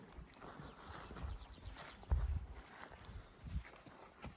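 A mare walks along with faint, irregular hoof clip-clops that sound quiet and somewhat distant over low background noise.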